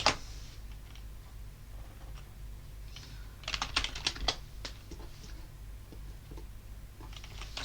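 A command typed on a computer keyboard in a Linux terminal: a quiet spell, then a close burst of rapid key clicks in quick succession, then a few more taps and silence.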